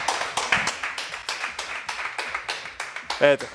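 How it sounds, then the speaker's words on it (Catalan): A small audience claps at a board game show after a gift is handed over, a steady run of sharp, fairly close hand claps with a short voice or tonal sound near the end. "Aplaudiment!"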